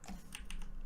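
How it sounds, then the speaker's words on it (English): A few quick, soft keystrokes tap on a computer keyboard during an online game session. The burst is brief and faint, with no talking. "I was just typing a bit"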